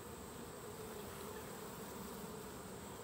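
Agitated honeybees in a hive give off a faint, continuous, dense buzzing drone with no breaks.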